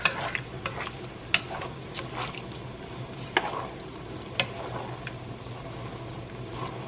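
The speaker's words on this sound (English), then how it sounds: "Stir it up, stir it up." A spoon stirs a simmering pot of food on the stove, with a steady frying hiss underneath and several sharp metallic scrapes and clinks against the pot at irregular intervals, heard close with no talking.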